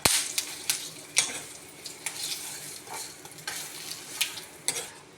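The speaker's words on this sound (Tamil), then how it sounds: "இப்போ மிளகாய் வறுக்கிறோம்." Dried chillies roasting with salt in a pan over low heat for mango pickle, a soft sizzle broken by sharp, irregular scraping and tapping strokes of a spoon, close by with no talk.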